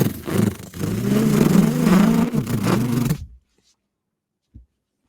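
A player's voice imitates a motorcycle engine revving during a Cyberpunk tabletop session, a loud buzzy rising and falling drone lasting about three seconds before cutting to silence.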